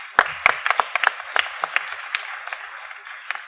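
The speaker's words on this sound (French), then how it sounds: "Vous pouvez les applaudir." A small audience at a talk on addictions gives sparse applause, a handful of separate claps spaced irregularly and slowly thinning out over a few seconds.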